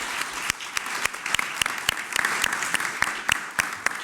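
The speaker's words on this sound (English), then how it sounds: "So let's give a round of applause to all of our panelists." Attendees at a minority entrepreneur summit at the NYSE applaud the panelists, a steady bed of clapping with distinct sharp claps from nearby hands popping out at a regular pace.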